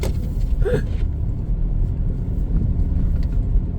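A Tesla passes on a snowy road, a steady low tire-and-road rumble with slush noise that holds throughout at moderate loudness, with no engine roar.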